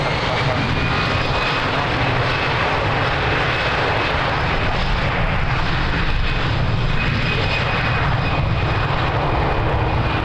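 An airliner takes off at Lisbon Airport on a windy day, its jet engines roaring loud and steady throughout, a continuous broadband rush with a faint high whine.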